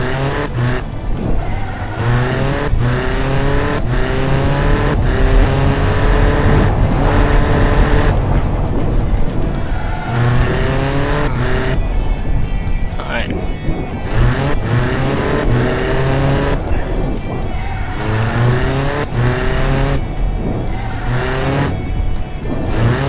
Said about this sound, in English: Backfiring a lot